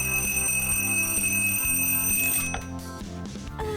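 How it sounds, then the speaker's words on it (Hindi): An alarm clock rings in Lucy's room, a steady bright ringing tone with layered metallic overtones, loud and continuous before briefly dropping in level. "ये लूसी के कमरे की अलार्म क्लॉक है।"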